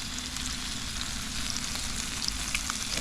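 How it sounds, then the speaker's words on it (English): White bass fillets sizzle in a hot pan with lemon and seafood seasoning, a steady close frying hiss that holds evenly throughout with no talk. "That's sizzling pretty good."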